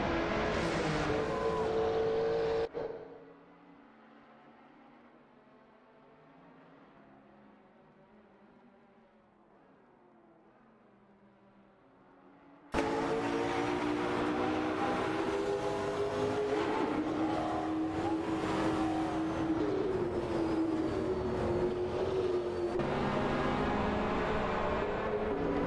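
Engines of De Tomaso and Ferrari race cars in a racing video game whine with loud, rising and falling tones, dropping to a quieter, muffled passage midway before roaring back at full volume.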